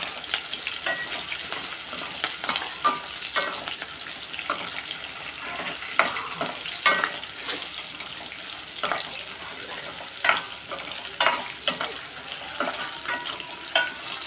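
Coconut pieces and dried red chillies fry in hot oil in a home kitchen, a steady crackling sizzle with scattered sharp pops and occasional stirring clinks, close and moderately loud with no talking.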